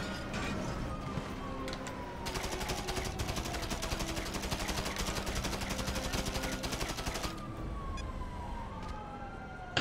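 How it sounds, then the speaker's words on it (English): Police gunfire in a video game: a rapid, sustained volley of shots in the middle stretch, with a wailing police siren sweeping through the background. "The cops shot me."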